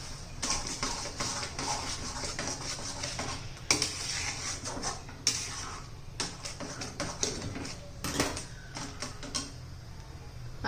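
Spinach paste being stirred and mixed in a cooking pan, with a steady scraping, clattering texture and scattered utensil knocks against the pan throughout, fairly close.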